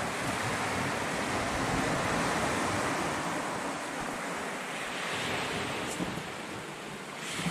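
Steady roar of ocean surf, waves washing continuously with a broad rushing noise and some wind buffeting, no voices.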